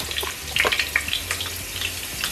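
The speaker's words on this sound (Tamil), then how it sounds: "எண்ணெயில் மிளகாய் தூள் போட்டால் கொரியன் ஸ்டைல்." Chili powder and garlic sizzle in hot oil for a Korean-style chicken dish, with a close, steady crackle and spitting pops that come in small bursts.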